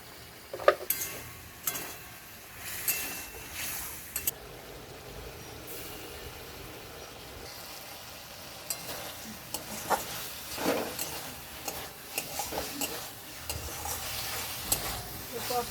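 Spiced masala with turmeric, chilli powder, cumin and garlic paste is stir-fried in a pan, giving a soft sizzle under intermittent scraping and stirring clinks of a utensil, close and fairly quiet.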